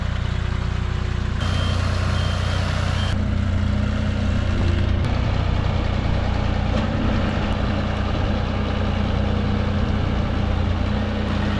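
A forklift engine idles with a low steady rumble, joined by a brief high reversing-style beep early on, recorded nearby with no talk.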